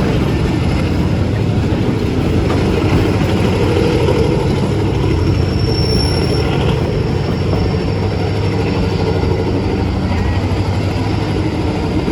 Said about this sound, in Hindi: अजीब सी आवाज़ आ रही है, मुझे जहाँ तक लगता है लोकोमोटिव से ही आ रही है।